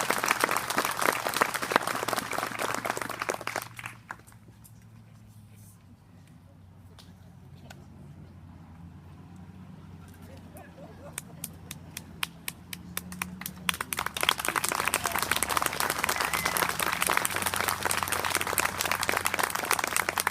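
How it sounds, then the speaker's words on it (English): A crowd at a Veterans Day ceremony applauds loudly, fades to quieter scattered clapping mid-way, then swells back into full, sustained applause. "Please give these gentlemen a round of applause."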